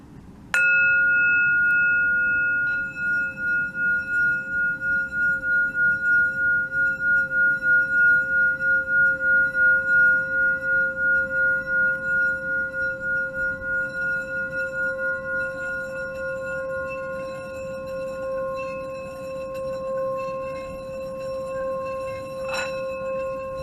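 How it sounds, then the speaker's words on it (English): A singing bowl is rubbed around its rim. It gives a sustained, ringing metallic tone that swells and throbs gently, then slowly fades over many seconds. "run it around the rim of the bowl the same way that you've seen people play a wine glass."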